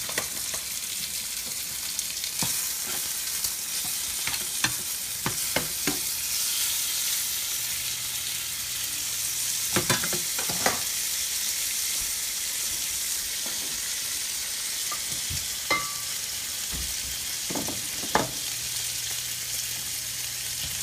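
Potato pieces frying in a pan make a continuous close sizzle, broken by scattered clinks and stirring knocks, with a faint low hum running in places and no speech.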